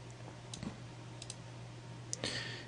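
A few sparse, faint key clicks on a computer keyboard as text is entered, scattered across a quiet room with a low background hum.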